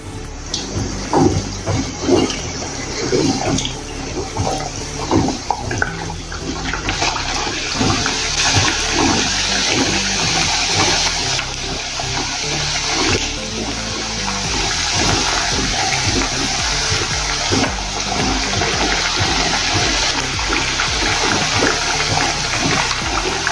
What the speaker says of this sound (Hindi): अभी गैस थोड़ा कम कर देंगे और जो हमने पापड़ी तैयार की थी वो इसमें डाल देंगे।